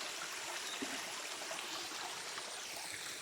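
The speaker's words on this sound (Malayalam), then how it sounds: "തൽക്കാലം ഈ വെള്ളച്ചാട്ടത്തിൽ നമുക്ക് സന്തോഷിക്കാം." Small waterfall at Peechi Dam, a continuous broad rush of falling water, steady and fairly close, with no voices.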